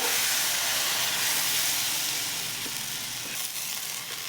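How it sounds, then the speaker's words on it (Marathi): Steady, loud broadband sizzle of dhirde batter on an oiled hot griddle, a continuous hiss that eases slightly toward the end, with no talking. "आता टाकूया दीड्याचं पीठ त्याच्यावर टाकायचं"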